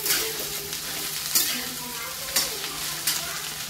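Okra being stirred and fried in a pan over low heat, with a steady close sizzle and a few sharper scraping stir strokes at intervals, no voices.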